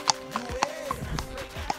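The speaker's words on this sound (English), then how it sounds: "This is my horse, Rusty's Pester." A racking stud horse moves at speed, its hoofbeats landing in a quick, even four-beat rhythm of sharp clops close by, while a voice runs underneath.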